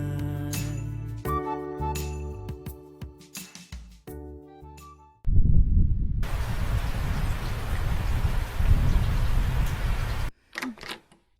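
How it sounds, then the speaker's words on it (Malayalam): Heavy rain falls in a dubbed Malayalam family drama scene: after a stretch of music, a loud, steady downpour hiss sets in for about five seconds, then cuts off abruptly. "നല്ല മഴ അല്ലേ?"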